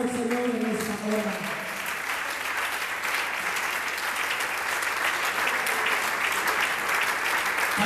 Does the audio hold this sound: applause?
yes